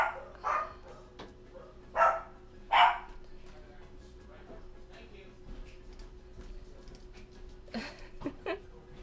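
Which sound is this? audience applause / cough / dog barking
dog barking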